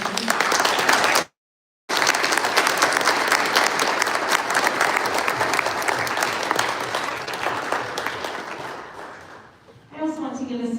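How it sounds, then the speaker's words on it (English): Sustained applause from a large concert audience, dense and steady, briefly cut out, then fading toward the end as a voice begins over it. "Can we have a round of applause for them?"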